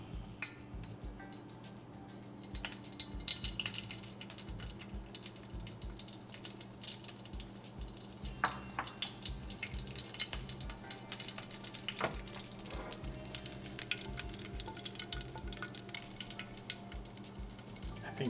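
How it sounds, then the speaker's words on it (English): Mustard seeds sizzling in hot coconut oil in a home kitchen pan, a faint steady crackle and hiss with scattered small pops, low and continuous without talk. "we'll heat up the coconut oil real quick and then we'll add the mustard seed to it"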